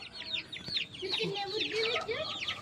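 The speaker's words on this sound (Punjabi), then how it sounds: "ਆਪਣਾ ਇੱਕ ਹੀ ਇਹਦੇ ਚ ਮੁਰਗਾ ਵਾ ਬਾਕੀ ਸਾਰੀਆਂ ਮੁਰਗੀਆਂ ਵਾ" Hens in a flock with one rooster cluck and murmur in short, uneven bursts nearby while small birds chirp rapidly overhead, and a faint rustle runs underneath.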